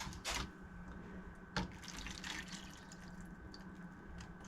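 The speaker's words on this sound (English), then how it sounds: "I'm just going to add a little bit of water to the bottom." A little water is poured into the bottom tray under a potted seedling, a faint trickle and splash with a couple of small drips, quiet and close.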